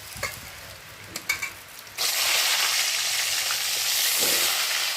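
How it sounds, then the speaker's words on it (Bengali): Loud, steady sizzling of catla fish frying in hot oil in a kadai, starting after a couple of soft clinks and scrapes and continuing close and unbroken to the end. "আর দুটো যে মাছ আছে এরকম করে ফ্রাই করে নেবো খুব ভালো করে"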